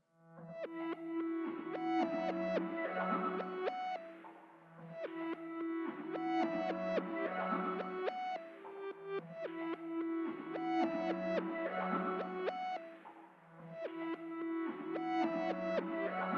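A bright, chiming melodic phrase repeats in looping cycles, each swelling in with reversed, smeared reverb tails before the notes land.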